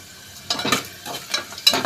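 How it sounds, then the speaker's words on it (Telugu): Spices for a dal tempering hit hot oil in a home kitchen, crackling in short sizzling bursts with bright spattering peaks, close and fairly loud. "తాలింపు వేస్తున్నారు అన్నమాట."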